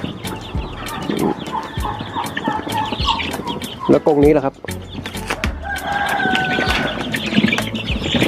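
Laying-breed chickens and young chicks kept in cages on a poultry breeding farm, a dense chorus of clucks, peeps and crowing close by throughout, with people talking over the flock.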